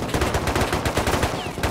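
Rapid automatic AK rifle fire in the Rust video game, a dense burst of sharp repeated shots in quick rhythm, loud and continuous throughout.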